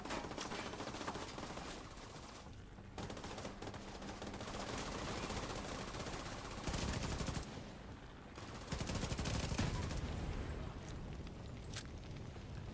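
A gun turret in the game The Division 2 firing sustained rattling bursts with brief pauses between them, loud and dense against background combat noise.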